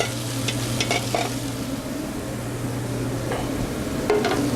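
Chopped onion and garlic sizzle in olive oil in a pan on the stove, a steady close frying hiss broken by a few scrapes of stirring, with no talk.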